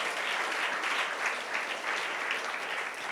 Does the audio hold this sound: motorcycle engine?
no